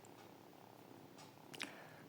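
Cats purr in a soft, close, continuous hum, low and steady, with a faint rustle and a brief higher squeak near the end.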